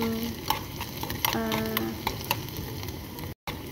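Onions fry and sizzle in a pan while a utensil stirs them, a steady crackle broken by scraping strokes, close and moderately loud with no talk.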